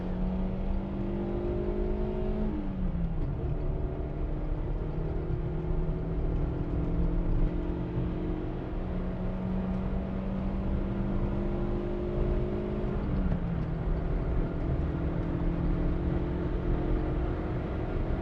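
A car laps the Nürburgring on winter tyres in mixed wet and dry conditions, heard from inside as a loud, steady engine drone with two upshifts where the pitch drops, plus constant road and tyre roar.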